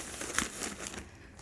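A plastic bag crinkles and rustles close by as it is handled while a baby's diaper bag is packed, a brief soft crackle with one sharper rustle.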